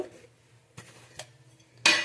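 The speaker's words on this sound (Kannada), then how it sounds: "ಒಂದು ಪಾತ್ರೆ ತೊಗೊಂಡಿದ್ದೀನಿ ಸಾಂಬಾರ್ಗೆ ಒಗ್ಗರಣೆ ಹಾಕ್ಕೊಳಕ್ಕೆ" A cooking pot for a ghee tempering for bassaru is handled, with a few separate metallic clanks and clinks, then a louder scrape of metal at the end, close by and without speech.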